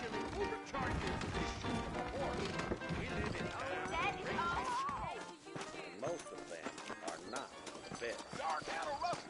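Horse hooves clip-clop in the Red Dead Redemption video game, a busy, steady beat mixed with game music, knocks and other sounds, with voices speaking over it throughout.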